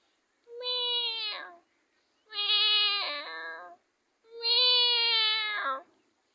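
A man imitates a female cat's meows with his voice, three long drawn-out nasal calls separated by short pauses, clear and close with nothing else underneath.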